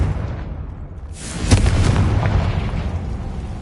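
A fire curse in a Hogwarts Legacy game erupts as a sudden booming explosion that swells loudly, then rumbles on as a sustained roar over low noise.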